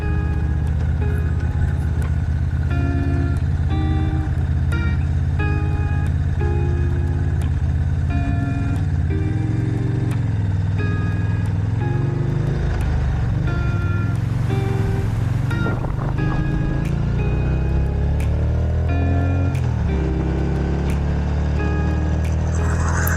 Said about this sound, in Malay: Aku cuma macam nak panaskan enjin motor aku ni.